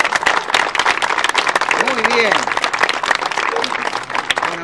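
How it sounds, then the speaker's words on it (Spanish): A crowd applauds children during a street procession for the Day of the Virgin in the Ezeiza neighbourhoods, steady dense clapping close by with a voice talking over it. "le damos un aplauso a todos estos niños que están acá"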